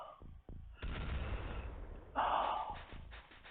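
A cannon fires in the XCOM Files video game, a heavy booming blast with a rumbling tail, then a second harsher explosive burst, with short sharp impacts before it.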